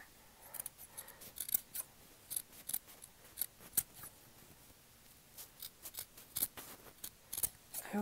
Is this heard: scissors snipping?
yes